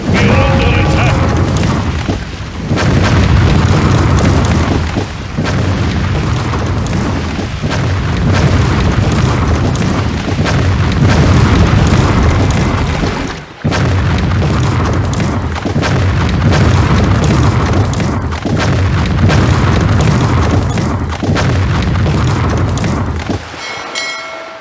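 Continuous loud booming explosions and cannon fire from a naval ship battle in the game Empire Earth, dense rumbling blasts with brief lulls, and voices heard amid the noise.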